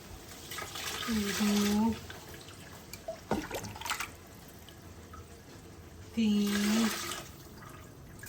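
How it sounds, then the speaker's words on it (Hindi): Yakhni stock pours into a pot of mash daal in two splashing bursts separated by a pause. A few soft knocks come between the pours, and someone speaks briefly in the background. "चले अब इसमें ऐड करते हैं यखनी"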